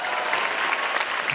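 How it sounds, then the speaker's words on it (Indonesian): An audience claps steadily for a performer named Gautama at a comedy competition stage show, a dense, close wash of applause filling the whole short stretch without a break. "Beri tepuk tangan sekali lagi untuk Gautama"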